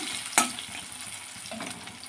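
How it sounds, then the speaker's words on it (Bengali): Boiled potatoes fry in a wok of hot oil, a steady nearby sizzle with a sharp metallic clink as they are stirred early on, no voices over it. "এখন আমি কড়াইতে দিয়ে দিলাম আলুটা ভেজে নেব"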